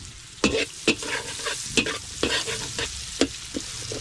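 Sliced onions fry in hot oil for mutton biryani, cooked outdoors on a farm, with a steady sizzle broken by sharp, repeated scrapes of a spoon stirring the pan, close and fairly loud.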